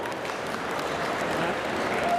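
Audience applause at a Japan Expo stage game, a steady wash of clapping from a crowd held at an even level for a couple of seconds, with no talk over it.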